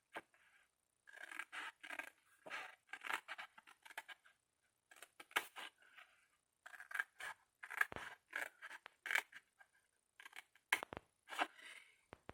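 Scissors snip straight through paper while making a Santa's car Advent calendar piece, a long run of quick crisp cuts in short bursts with brief pauses, close and clear, no talking.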